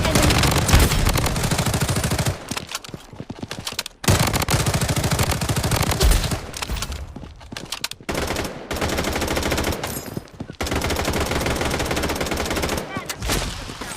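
Rapid automatic gunfire in a battle royale shooter, loud dense bursts broken by short pauses across the stretch, with faint game voice prompts mixed in.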